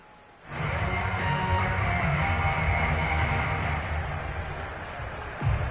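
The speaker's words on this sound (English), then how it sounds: "The rain set to continue as we are underway in the second half." Rain in an American football video game, Packers vs Rams, comes in as a steady, dense hiss after a brief quiet start and holds evenly to the end.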